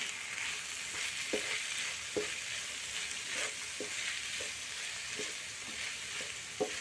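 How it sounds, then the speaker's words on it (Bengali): Deboned fish pieces are fried with onion and spices in a pan, giving a soft, steady sizzle with occasional light knocks of a spatula stirring, fairly quiet and without voices. "মশলার সঙ্গে একবার মাছ পেঁয়াজ ভালোভাবে কষে নেব"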